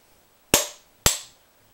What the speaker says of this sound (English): I don't necessarily recommend you beat on your ratchets